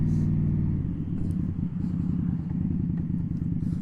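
An Indian Scout Bobber motorcycle engine rumbles steadily and loudly while being ridden, a continuous low throbbing drone with slight dips in power and no talking.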